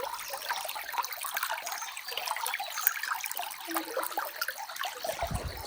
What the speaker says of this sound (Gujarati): પાણીનો એટલો ખડખડ અવાજ છે ને જો હું તમને સંભળાવું